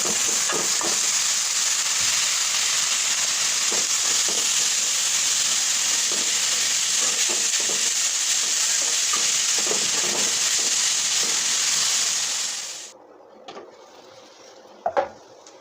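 Bitter gourd and potatoes frying in a pan, a steady loud sizzle with scraping stirs throughout, then the hiss cuts off abruptly near the end, leaving a few faint clinks.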